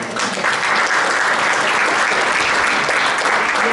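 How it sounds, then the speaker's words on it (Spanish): Church congregation applauding, a dense, even wash of many hands clapping together, loud and sustained without a break. "Antes le damos un aplauso a mi hermano."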